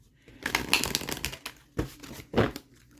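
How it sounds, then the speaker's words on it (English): A deck of tarot cards is shuffled up close in quick riffling bursts, with a longer run of rapid flicks followed by two short separate snaps of card noise. "I want to get the cards shuffled real good."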